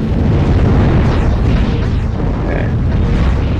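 Missiles from a boss's launcher in the video game Steambot Chronicles blow up in a loud, continuous rumbling barrage of blasts with no gaps between them.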